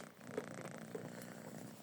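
A domestic cat on a small farm purrs softly and steadily, close to the listener but faint, with no talk.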